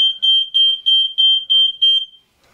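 Piercing high-pitched beeps from interconnected mains-wired smoke alarms during a button test, repeating in a steady rapid pattern, loud and close, then stopping abruptly.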